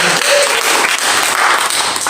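Loud, dense applause from a church congregation at a worship service in a Permata Surya apartment, steady and sustained without a break, with faint voices mixed in.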